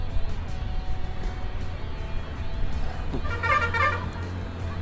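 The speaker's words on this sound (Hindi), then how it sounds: "बहुत ही जबरदस्त हॉर्न है" A vehicle horn blares around the middle of the clip over steady engine rumble and road noise.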